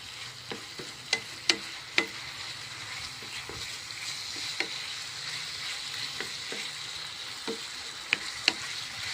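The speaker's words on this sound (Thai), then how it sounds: "คั่วให้เข้ากันนะคะ" Pork curry with chamuang leaves, soy sauce and palm sugar sizzles steadily as it is stir-fried in a hot pan, while a utensil scrapes and clacks against it now and then, with no talking.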